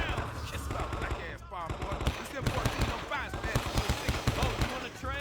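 M14 rifle fire in the Vietnam War shooter Men of Valor, rapid clanking shots in quick succession, loud and close, with someone talking over the shooting.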